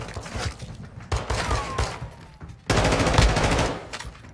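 Pistol fire in a video game comes in loud bursts of rapid shots, followed by a denser volley of gunfire near the end, with no talking.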